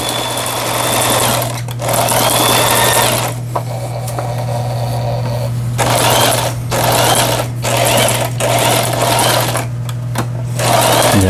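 A Singer 8280 home sewing machine runs in steady bursts, its fast mechanical whir starting and stopping several times, close and loud with no voices.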